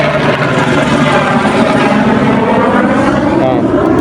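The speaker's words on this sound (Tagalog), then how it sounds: "Oh, may helicopter pa." Helicopter flying overhead, a loud, steady rotor and engine roar filling the whole clip with a throbbing texture.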